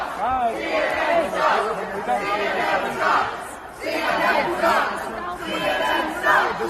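A dense crowd at CPAC in Orlando shouts and chatters loudly around a reporter walking through, with swelling chants and overlapping voices filling the whole stretch.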